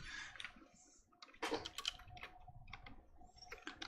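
Fingers tap away at a computer keyboard, a quiet, uneven run of clicky keystrokes with short bursts and pauses, heard close and alone.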